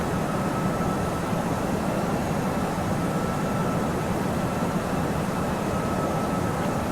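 Steady, loud engine and airflow drone from an Aerosoft A320 airliner climbing in a flight simulator, with light turbulence; a continuous broadband roar holds unchanged throughout with no talking.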